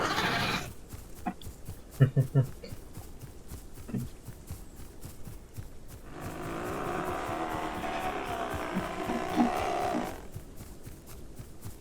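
Goat-like creature calls in the dinosaur survival game Path of Titans, a sustained wavering bleating cry of several seconds rising out of quieter game ambience, preceded by scattered short clicks and knocks.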